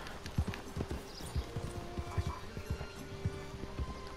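A horse's hooves clip-clop in a steady walking rhythm on the ground in the video game Red Dead Redemption 2, close and fairly quiet over a low ambient hum.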